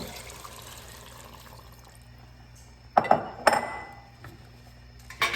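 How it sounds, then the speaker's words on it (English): Water being poured into a pot of rice for arroz con pollo: a quiet kitchen background gives way to a few sharp splashing bursts and clinks as liquid hits the pot, close and fairly loud. "So I'm going to put 3 cups of water here."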